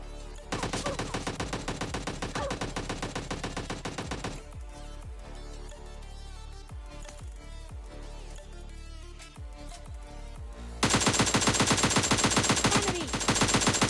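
AKM rifle fire in a battle royale game: rapid full-auto bursts crackle loudly at the start and end, with scattered single and short-burst shots in a quieter stretch between.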